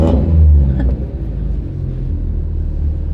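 A built Subaru STI engine fires up and settles into a loud, lumpy idle with a deep rumble that briefly swells right after starting, then holds steady up close.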